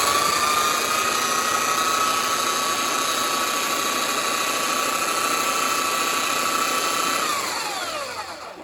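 Titan TTB290SDR belt sander running at its slow setting, a steady close whine with a continuous motor hum that holds level, then winds down near the end.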